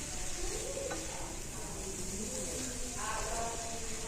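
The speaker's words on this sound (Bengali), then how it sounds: "এবারে এটাকে একটু নাড়িয়ে দেবো" Egg curry stirred in a pan after chili powder and garam masala go in, a constant sizzle with soft, occasional scrapes of the spatula under a woman's speech, close and fairly quiet.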